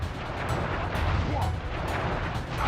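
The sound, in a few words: firework attack explosion in video game Sly Cooper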